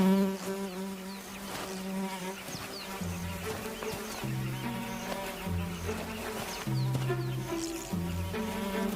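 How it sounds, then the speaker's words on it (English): A tsetse fly buzzes steadily around a young lion in the hot African bush, a close, persistent droning hum that wavers in pitch as the insect circles, heard alone without talk. "The misfit is bothered by a tsetse fly."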